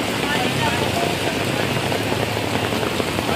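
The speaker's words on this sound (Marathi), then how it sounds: "हे सगळं वरून पाणी गळतंय, चटई ओली झालेली आहेत" Heavy rain pours onto a slum hut roof with water leaking through inside, a dense, steady close-up hiss of drops that stays even and unbroken throughout, with no voices.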